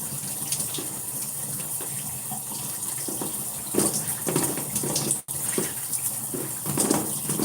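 A shower runs steadily, spraying water with a continuous hiss and splatter, plus a few brief knocks and one short dropout near the end.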